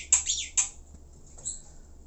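A Javan pied starling gives two sharp, harsh squawks close together, then a softer call after a pause.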